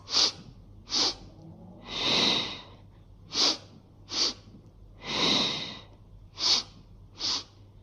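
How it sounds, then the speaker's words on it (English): Pairs of quick, sharp sniffs in through the nose alternate with longer, softer exhales, repeating in a steady breathing rhythm close up. "We're going to do that sniffing breath. So in through the nose 2 times"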